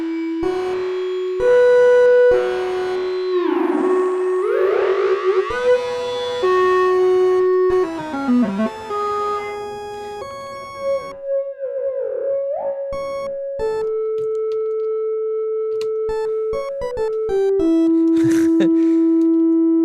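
Sustained electronic Eurorack modular synth tones that glide and sweep in pitch, shifting between steady held notes and swooping siren-like bends, with no talking.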